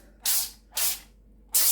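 Three short bursts of cooking spray hiss onto a parchment-lined baking tray, each about a third of a second long with brief silences between, close and crisp.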